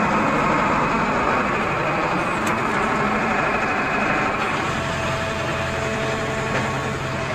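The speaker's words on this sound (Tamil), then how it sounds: "பக்கெட்டை மடக்கி ஸ்டிக்கை ஓப்பன் பண்ணி வண்டியை மூவ் பண்ணிட்டுருக்குறோம்" A TATA excavator runs with a steady, moderately loud diesel engine drone while it folds its bucket, opens its stick and moves, with faint mechanical clanks over the constant hum.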